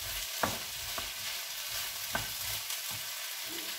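Peppers and tomatoes sizzle steadily in a frying pan while a utensil stirs them, with a few sharp scrapes and clinks against the pan over the constant hiss.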